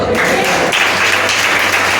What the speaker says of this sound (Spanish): pueden darle gloria a Dios con un aplauso